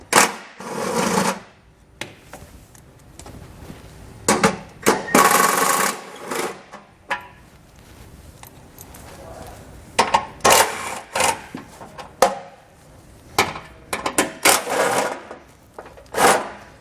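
A socket wrench ratchets out the 10mm fasteners holding a heat shield on a 2021 Subaru Forester, in short bursts of sharp, close clicking separated by brief pauses.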